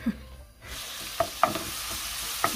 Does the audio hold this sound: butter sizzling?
yes